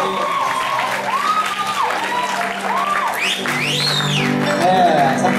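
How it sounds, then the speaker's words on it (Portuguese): Studio audience on a Brazilian dating show applauding and cheering for a departing contestant, a steady wash of clapping and crowd noise with voices shouting over it, swelling louder toward the end. "Salva de palmas, gente. Salva de palmas aí."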